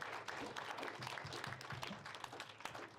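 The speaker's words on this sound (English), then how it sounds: "A round of applause for all of them." Audience applause for sponsors at a live trade podcast recording, a steady wash of many hands clapping from start to end at moderate level, with no voices over it.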